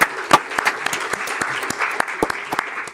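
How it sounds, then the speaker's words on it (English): Audience applause at a NASA event presenting the Moon plan: dense, steady clapping from a crowd, close and loud, with no talk over it. "So if we could give them a round of applause"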